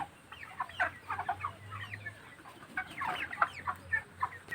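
Broiler chickens on a poultry farm cluck and chirp in a dense, continuous flock chorus, many birds close by, with a low steady hum running underneath.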